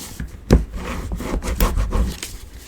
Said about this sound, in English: just fold that flap over and give that a burnish